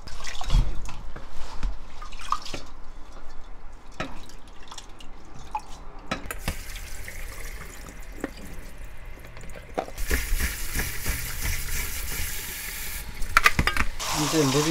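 Hijiki seaweed washed by hand in a sink, with close splashing, sloshing and dripping water, then a stretch of running tap water near the end; a person speaks now and then over the washing.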